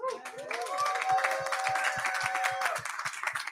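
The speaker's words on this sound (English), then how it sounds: "let's hear a little round of applause" A small crowd at a Porcfest panel in a privacy tent gives a light round of applause with scattered claps, while a voice speaks briefly over it.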